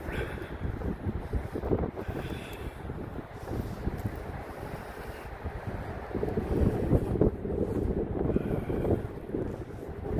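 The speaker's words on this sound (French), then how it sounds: "Il y a un vent incroyable." Strong wind buffeting the microphone in rough, continuous rumbling gusts, loud and close, with no voices.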